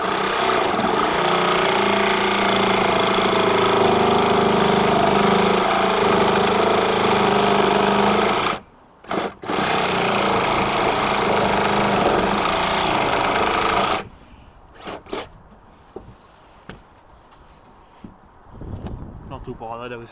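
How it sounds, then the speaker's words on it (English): A Sawzall reciprocating saw buzzes loudly and harshly, cutting through anti-roll bar link bolts on a truck chassis in two long bursts separated by a short pause, then stops, leaving quieter clanks and handling noises. "Should be able to get in behind here then with the sawzall,"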